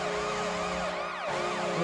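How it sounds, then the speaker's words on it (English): An NHL arena goal horn holds a steady loud tone while layered police-style sirens wail and sweep up and down over it. "This is freaking police sirens."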